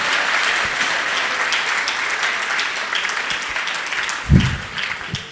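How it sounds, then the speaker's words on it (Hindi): Audience clapping at a gathering with a Jain monk, Muni Shri Praman Sagar, a dense, continuous patter of many hands at moderate distance, with a louder thump near the end. "आपकी तालियों में दम नहीं है"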